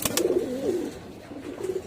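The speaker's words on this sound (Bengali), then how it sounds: "এই যে দেখেন ডাকটা দেখেন নরের" A male pigeon coos close by in a low, rolling call, two cooing phrases with a short gap between them and no other sound competing.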